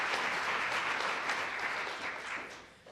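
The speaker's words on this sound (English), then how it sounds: "Yeah, that's worthy of applause." An audience at a town hall meeting gives warm, steady applause, many hands clapping together in a broad wash that fades slightly toward the end.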